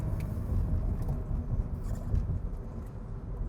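Road and engine noise inside a 2017 Subaru BRZ on the move, a steady low rumble with tire roar and faint rattles, heard from within the cabin.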